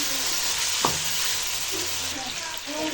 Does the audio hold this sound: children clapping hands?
no